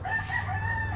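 A bantam rooster crowing close by on a small farm, one drawn-out wavering crow lasting the whole moment, clear and fairly loud over a low background hum.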